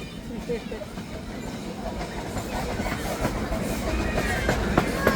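The train at Ruislip Lido rolls along its track with a continuous close rumble and faint rhythmic clatter that swells slightly. Voices talk over it throughout.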